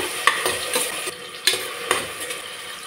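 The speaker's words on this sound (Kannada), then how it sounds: "ಈಗ 1 ಟೊಮೊಟೊ ಹಾಕ್ತಾಯಿದ್ದೀನಿ, ಸಣ್ಣದಾಗಿ ಹಚ್ಚಿಟ್ಟಿರೋದು. ಇದು ಒಂದು ಸ್ವಲ್ಪ ಫ್ರೈ ಮಾಡ್ಕೊಳ್ಳೋಣ" Finely chopped tomato is stirred in hot oil, with several sharp spoon-on-pan scrapes and clicks over a soft background sizzle, close and fairly loud.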